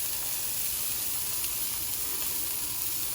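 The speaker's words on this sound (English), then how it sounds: "While that's sizzling away, I'll get my burger bun ready to go." Steady, even sizzling hiss of a burger patty frying in a hot pan, constant and close, with no talking.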